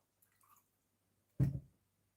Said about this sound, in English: I will water them a little.